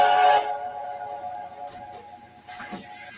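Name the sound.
alternate steam locomotive whistle for Skarloey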